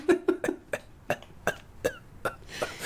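A voice imitates a whooping cough (pertussis) fit: a rapid run of about nine sharp, harsh coughs in steady succession, close and loud, ending in a breathy noisy gasp.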